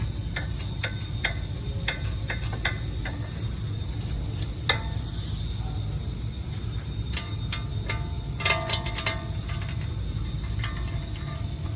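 Ratchet clicking away while driving bolts in on a BMW 335i (E90/E92/E93) during wheel bearing replacement, with quick bursts of ticks over a steady low garage hum, close and fairly quiet.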